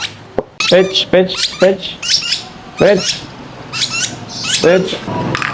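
A pet lovebird squawks in repeated sharp, harsh bursts close by, loud and frequent across the whole stretch, with a few short pauses between calls.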